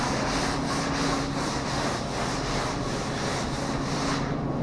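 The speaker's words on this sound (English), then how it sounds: "She's sanding out pretty nice." Sandpaper rubs back and forth over primer on a seamed car quarter panel, a close, loud, even rasp in quick repeated strokes with no voices.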